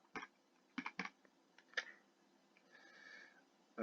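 Keystrokes on a computer keyboard while working in GeoGebra, arriving as short scattered clicks with pauses between bursts, close and fairly quiet.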